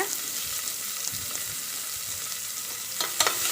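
A big chopped onion sautés in oil with mustard seeds and curry leaves for a Tirunelveli village-style koottanchoru, giving a soft, even sizzle with a few louder stirring scrapes near the end.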